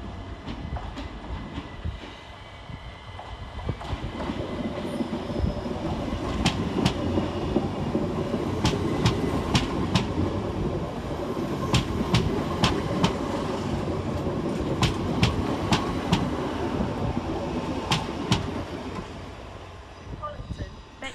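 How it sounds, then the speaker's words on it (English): A Class 377 electric multiple unit pulls out of Eastbourne railway station bound for Hastings, with a steady rolling rumble and rhythmic wheel clicks over rail joints that build and then fade. "377135 departs on time for Hastings."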